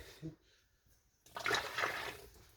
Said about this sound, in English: I'm going to pour the rest of this down the sink.